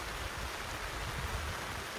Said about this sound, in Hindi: जो टार्प से पानी आ रहा है उसको वाटर कूलर में ले रहे हैं अंदर